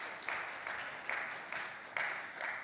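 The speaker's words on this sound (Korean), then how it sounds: "다시 한번 큰 박수를" Church congregation clapping for the choir after worship music, a soft, steady wash of applause in a large hall, swelling in rhythmic pulses.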